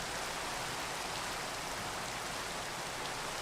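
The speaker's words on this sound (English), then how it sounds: "We can build in the rain because we ain't made of sugar." Rain pours down steadily outdoors, a close, even hiss of drops on surfaces that holds constant without pause or voices.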